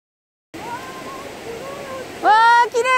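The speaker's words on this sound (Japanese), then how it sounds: "レイメイの滝です。" A waterfall, Reimei Falls in Kikuchi Gorge, rushes in a steady, broad roar while a person speaks over it.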